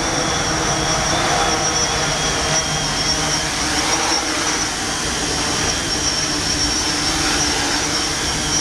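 A Hiro Game of Drones quadcopter flies at full throttle. Its motors make a loud, close, continuous whine and buzz that stays steady throughout, with no talk heard.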